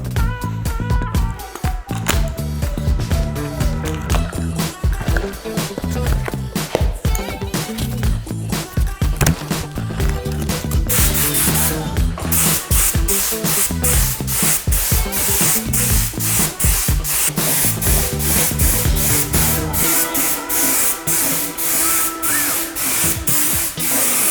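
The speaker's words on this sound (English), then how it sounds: "let's spray the deep black. It's loaded already in my spray gun." A spray gun spraying deep black paint on a Cannondale SuperSix Evo bike hisses steadily and loudly throughout, with rapid mechanical pulsing underneath, running continuously without pause.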